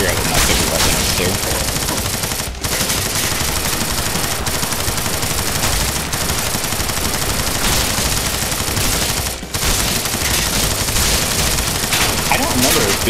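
Rapid Uzi submachine gun fire from the VR shooter Dick Wilde 2 rattles almost nonstop at full volume, with only two brief breaks, loud and close, and faint voices underneath.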